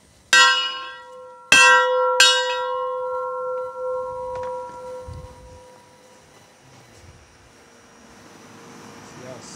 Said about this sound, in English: Give the bell a ring.